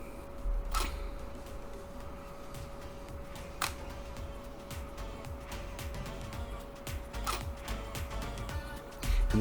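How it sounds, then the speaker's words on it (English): A DSLR camera's mirror flips up repeatedly while the camera fails to focus and never takes a photo: three sharp, faint clicks spaced roughly three seconds apart over a steady electrical hum. "It sounds like a shutter, but it's actually the mirror flipping out"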